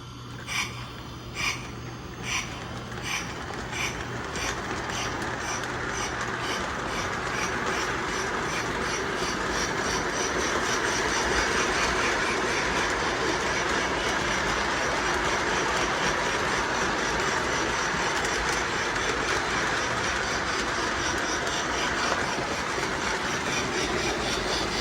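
A Lionel Thomas the Tank Engine toy train with smoke and a flickering firebox runs steadily on its track, giving a continuous close whirring rumble with rhythmic clicking of wheels over rail joints for the whole stretch.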